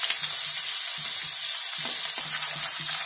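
Green chili and garlic frying in a pan for sambar, a steady bright sizzle with intermittent stirring scrapes and clinks, close and continuous with no talking.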